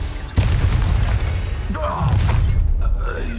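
Confringo fire spell blasts in the Hogwarts Legacy video game, a loud sudden burst followed by rumbling crackle and a second surge, with muffled game voices and effects mixed in.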